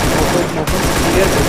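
Dense PUBG gunfire in a ranked match, continuous loud bursts of shots that barely pause, with a brief drop midway, under excited voices of players talking.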